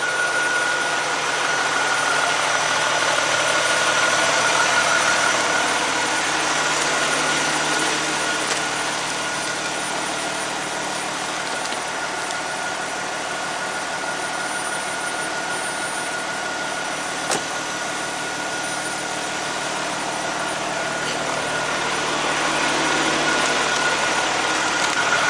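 A diesel truck idling mid-regeneration after sitting for a week, giving a steady continuous engine drone with a constant whine, unchanging throughout and without voices.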